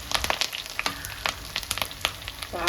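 Curry leaves crackling in hot oil for a bitter gourd tamarind curry, a close sputtering sizzle full of quick pops and spits, fairly faint and uneven, with no talking.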